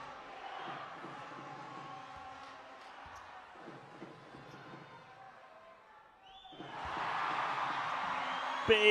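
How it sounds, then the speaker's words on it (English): Basketball arena crowd at a FIBA World Cup 2019 Asian qualifier between Iran and Japan, quiet murmur during a free throw, then a sudden loud cheer erupts near the end. "Big cheer."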